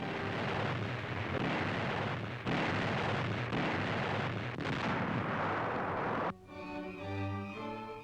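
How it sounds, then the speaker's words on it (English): Naval guns of American and British warships bombard Nazi-held Italian ports in 1943, heavy booming blasts rolling continuously for about six seconds before giving way to a lower, steadier rumble. "Nazi-held Italian ports are attacked by combined American and British naval forces as far north as"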